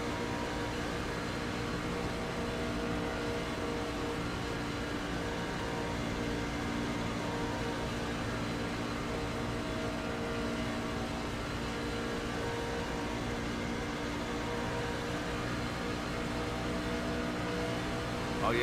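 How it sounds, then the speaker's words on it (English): Racing truck engines in a sim racing game at Daytona hold a steady, dense, high-revving drone throughout, with no talk over it. "Listen to the RPMs just crank."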